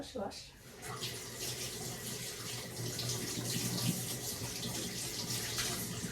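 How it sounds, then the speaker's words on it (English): Running tap water pours into a sink as vegetables, including sweet pepper, are rinsed in a home kitchen, a steady splashing stream from start to finish. "I'm going to wash my vegetables."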